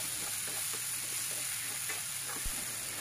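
Green banana pieces sizzle as they are stir-fried in a pan with turmeric, a steady close hiss with faint scraping of stirring and no talking.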